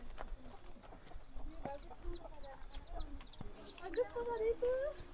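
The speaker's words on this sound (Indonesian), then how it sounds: "Ini apa ini? Ayam." Chickens roaming free outdoors, not penned, cluck and chatter intermittently at a distance over a busy outdoor background, with voices talking faintly nearby.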